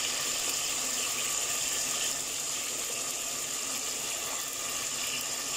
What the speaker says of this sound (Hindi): तो अब मटन को इसमें हमें फ्राई करना है तो हम मटन को भूनते हैं।